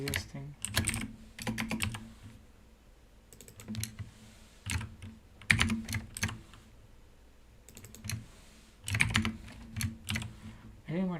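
Fast bursts of typing on a computer keyboard, quick clusters of close clicking keystrokes separated by short pauses, with no talking.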